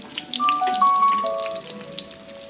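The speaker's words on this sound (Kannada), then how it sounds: "ಈರುಳ್ಳಿ ಹಾಕ್ಬಿಟ್ಟು ಫ್ರೈ ಮಾಡಬೇಕು." Onions frying in hot oil for mango chutney, a short close crackle and sizzle with a few sharp pops, alone without speech.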